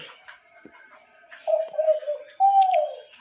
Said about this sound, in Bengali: এখানে যেটা দেখতেছেন দলগু, এটা হচ্ছে মেল বাচ্চা